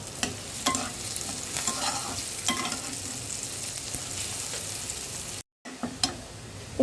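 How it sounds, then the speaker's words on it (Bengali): Onions frying in ghee for a puffed-rice snack are stirred in a pan, giving a steady close sizzle with repeated scraping strokes. A brief dropout comes near the end, and no one speaks. "এটাকে সুন্দর করে একটু নেড়ে চেড়ে নেব, 2-1 মিনিটের মতো নাড়াচাড়া করলে হবে।"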